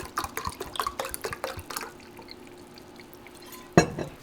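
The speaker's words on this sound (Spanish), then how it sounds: "Y nos vamos con 2 tazas de vinagre. De la misma forma hasta terminar de llenar los botes." Water and vinegar poured into jars of chiles, with a run of short dripping and splashing pours, then a quieter stretch and a sharp glassy clink near the end.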